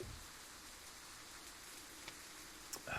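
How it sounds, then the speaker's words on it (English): Rain falls in the Cataclysm DDA video game as a soft, steady hiss with a few faint drop ticks near the end, quiet and even throughout. "It's raining only on me."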